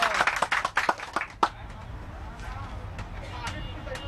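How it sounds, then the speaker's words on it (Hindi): A small group of people claps briefly at a departure point in Mumbai, with a short burst of hand claps over the first second and a half, then faint background chatter and ambient noise. "ताली बजाओ सब।"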